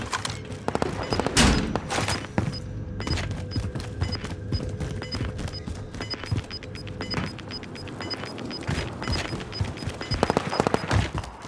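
Gunfire crackles in Call of Duty: Modern Warfare, with scattered shots and short rapid volleys at middling distance over rumbling ambience, a few heavier thumps standing out.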